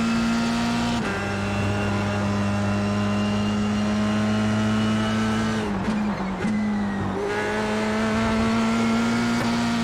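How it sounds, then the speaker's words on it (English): A race car in the iRacing simulator at Road America, its engine holding a loud steady drone that wavers and dips briefly as the rear wheels spin, then settles back to a constant high tone. "Bit of wheel spin there."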